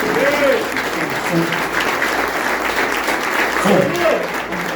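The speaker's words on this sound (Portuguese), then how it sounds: "Uma salva de palmas para Jesus." A congregation claps loudly and continuously at a men's church service, with voices calling out over the applause throughout.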